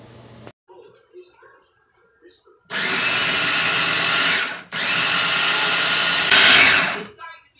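A small blender grinding ube whirs loudly in two long bursts after some quiet talk, close and harsh, its pitch rising near the end.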